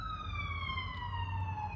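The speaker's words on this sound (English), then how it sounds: "my bad, sorry for the sirens." An emergency vehicle siren wails outside, a steady, slowly falling tone that holds for the whole moment over a low background rumble.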